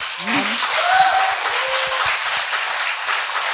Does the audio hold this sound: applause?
yes